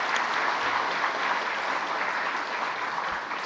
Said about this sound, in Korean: 화이팅하라고 박수 한번